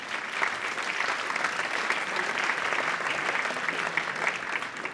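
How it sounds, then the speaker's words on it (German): Steady, dense applause from an evening audience at a university media event, a continuous even wash of many hands clapping at moderate loudness with no pause throughout. "ganz herzlichen Applaus für euch nochmals"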